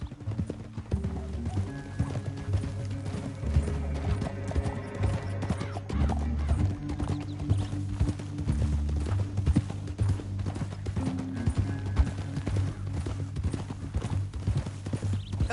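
Horses gallop in a PS4 western video game near a canyon, producing a steady, continuous clip-clop of hooves with occasional whinnies throughout.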